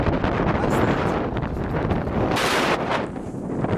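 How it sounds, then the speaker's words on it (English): Strong, gusty wind on the Applecross Pass mountain road in Scotland buffets the microphone in a constant roar, with no other sounds coming through. "and the wind's in my face now"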